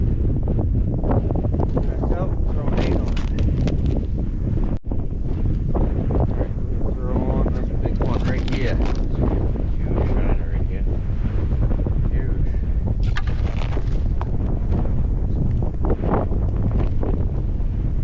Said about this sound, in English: that wind sure is crisp out there